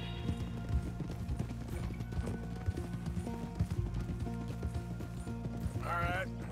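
Horse hooves in Red Dead Redemption 2 clip-clop on approach to a stable, a steady loping rhythm under game music and ambience, ending in a brief whinny.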